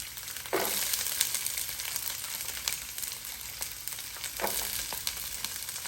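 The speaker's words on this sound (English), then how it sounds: "Saute them." Vegetables sauté in a pan for a vegetarian casserole, giving a steady close sizzle and crackle throughout, with a few louder bursts as they are moved and stirred; no one speaks.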